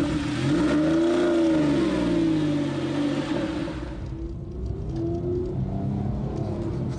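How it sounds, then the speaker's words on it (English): A Porsche 911 engine burbles and revs at low town speed, a deep throbbing rumble rising and falling in pitch, steady and close throughout with no talk. "the engine sounds at its best when you're going 14 miles an hour"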